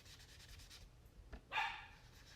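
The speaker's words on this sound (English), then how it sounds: "You're gonna hear my dog in the background." A dog barks once in the background, a single short, moderately loud yelp following some soft rubbing and scraping sounds nearby.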